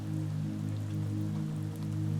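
Rain falls in a steady, unbroken wash of soft patter, continuous and even for a couple of seconds with no voices.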